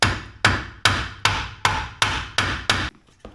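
A hammer strikes the edge of a suspension arm on a 1967 Jaguar E-Type to break its taper: eight sharp metallic taps at an even, quick rhythm, each ringing briefly, then silence.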